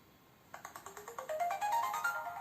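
Life Balance Contact device powering on with a short electronic chime: a quick run of rising beeping tones, faint and alone over quiet room noise.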